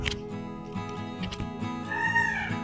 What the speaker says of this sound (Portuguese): Olha o barulhinho dos pássaros